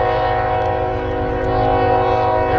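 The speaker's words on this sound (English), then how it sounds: "There's the train. Can't really see it though. We heard it." A Canadian National Railroad freight train sounds its horn in a steady, sustained blast over a low rumble of rolling cars, loud and close throughout.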